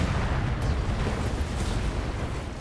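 Big guns slamming into a Quickdraw mech and the building behind it in the Battletech video game, a dense, loud, rumbling wash of explosive impacts that holds steady throughout.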